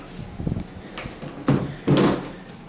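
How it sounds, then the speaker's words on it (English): A liquor dispenser drawer in a hotel resort room being slid open and shut, giving a few close sliding knocks and a firmer thud near the end. "they do have some kind of a liquor dispenser going on in here as well that slides"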